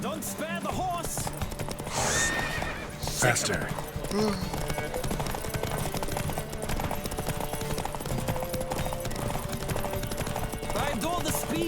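Horse hooves clip-clop rapidly during a race in the Witcher 3 video game, a steady galloping rhythm running under game music and spoken dialogue throughout.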